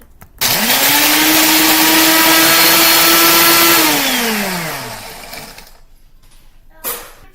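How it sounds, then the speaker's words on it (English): A blender whirs loudly at a steady pitch for several seconds while blending Oreo cookies, then winds down as the motor slows to a stop, followed by a brief clunk. "And now we blend."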